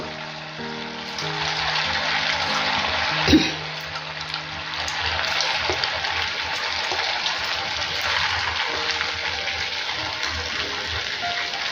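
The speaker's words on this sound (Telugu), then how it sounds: "ఆయిల్ వేడెక్కిన తర్వాత మీడియం ఫ్లేమ్లో పెట్టేసుకొని మనం ప్రిపేర్ చేసుకున్నటువంటి డోనట్స్ ఒక్కొక్కటిగా యాడ్ చేసుకోవాలి" Homemade spicy mini donuts dropped one by one into hot oil on a medium flame, giving a steady, close bubbling hiss with a brief louder splash partway through.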